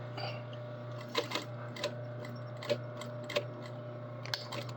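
A sewing machine runs a long topstitch on a garment seam with a steady low motor hum, broken by sharp intermittent clicks and taps, close and alone.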